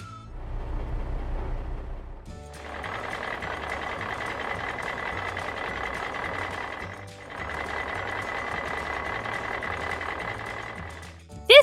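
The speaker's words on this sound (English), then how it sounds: "Now the dump truck is ready to take another load of sand." A dump truck being loaded with sand gives a steady mechanical whirring rumble with high, repeated beeping. The noise pauses briefly partway through, then resumes and ends on a sharp clunk.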